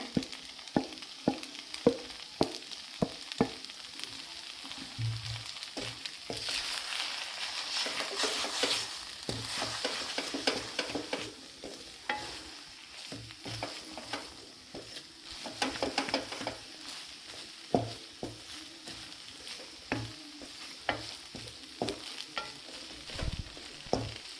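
Scrambled egg stirred into Maggi noodles in a hot pan: repeated scraping and clicking strokes of a spatula against the pan over a soft sizzle, irregular in rhythm and close up.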